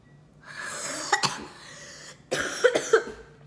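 A person who is sick coughs twice while tasting ice cream, each a close, harsh burst of several quick hacks with breathy noise between them and no talk.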